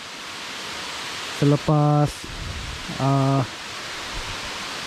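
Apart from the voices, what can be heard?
waterfall on the Murug Turug hiking trail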